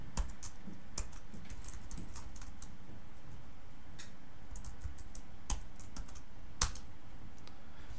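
HTML code is typed on a computer keyboard in close, irregular bursts of crisp key clicks with occasional louder keystrokes, steady throughout with no talking.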